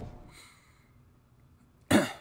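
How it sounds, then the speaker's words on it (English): A single short, sharp throat-clearing sound lands close and loud at the end, after a quiet stretch with faint tones. "Sorry, I'm clearing my throat."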